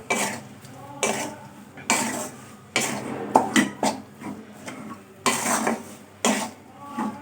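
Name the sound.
stirring potato samosa curry in a pan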